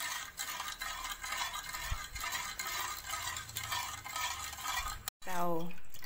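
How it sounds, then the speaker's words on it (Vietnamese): Sugar is stirred in water in a pot over low heat to dissolve it, making continuous close scraping and swirling sounds with light clinks, ending in a short, louder knock. "Mình nấu với lửa nhỏ thôi, đặng mình khuấy cho đường nó tan ra."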